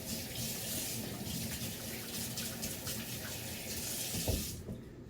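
Water runs steadily from a kitchen tap while hands are washed after handling ground beef, a close continuous splashing stream that cuts off near the end, with no talking.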